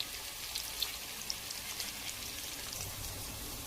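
Ginger garlic paste added to a frying pan with mustard seeds, onion and green chillies, making a steady close crackling hiss with fine spitting pops throughout, alone without talk.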